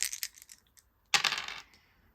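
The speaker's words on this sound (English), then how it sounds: "so he gets to roll 3 dice." Three dice rolled for a veteran during a tabletop wargame, with light plastic clicks first, a pause, then a sharp clattering tumble across the table that quickly settles.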